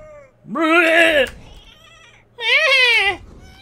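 Two drawn-out, wavering bleats from goats in the video game Goat of Duty, each lasting under a second with a short pause between them, loud and close.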